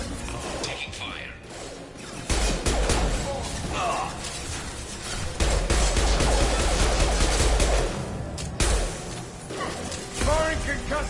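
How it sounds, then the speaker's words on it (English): Sci-fi firefight gunfire from Mass Effect 2, with heavy bursts of automatic shots, impacts and crashes layered with mechanical noise, loud and sustained while squad voices call out over the action. "Taking fire."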